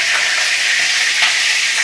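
Food fries hard in oil in a kadai, a loud continuous sizzling hiss with no pause and no voices.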